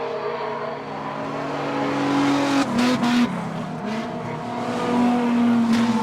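Street stock race cars roar around the Cullen Bullen Raceway speedway, engines droning loudly and shifting pitch as they pass, with bursts of revving and tire scrabble on the track.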